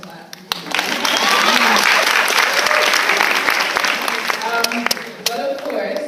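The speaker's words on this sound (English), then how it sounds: "yes, you can clap" Sustained audience applause at a retrospective speech, dense clapping swelling after a brief start and holding steady for several seconds, with some voices murmuring underneath.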